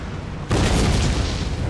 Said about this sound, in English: I think more of my Holland Guard just totally got destroyed by his artillery